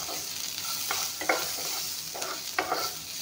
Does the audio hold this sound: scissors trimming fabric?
no